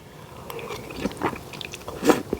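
Close, crisp crunching and biting on crunchy vegetables from a frozen spicy beef vegetable soup, a few uneven bites with a louder crunch near the end.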